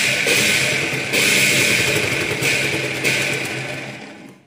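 Sewing machine stitching the seams of a katori blouse, a steady dense motorized whir running continuously with brief pauses and restarts, close and fairly loud before winding down at the end.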